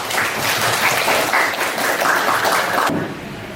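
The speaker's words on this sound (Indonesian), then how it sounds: "tepuk tangan dulu untuk temannya" Classroom applause for a student rings out as a loud, close burst of many hands clapping for about three seconds, then cuts off abruptly.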